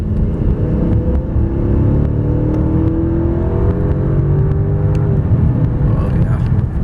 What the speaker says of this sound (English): we'll do a little dash, see how the vehicle does